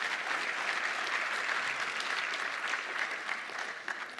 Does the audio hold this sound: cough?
no